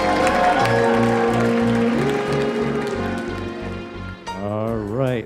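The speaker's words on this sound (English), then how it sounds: "One more round of applause, ladies and gentlemen." Wedding guests applaud in a steady patter beneath loud, tonal recorded music at a reception, the clapping blending with the song and fading slightly as the music shifts.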